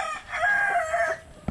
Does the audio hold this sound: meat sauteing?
no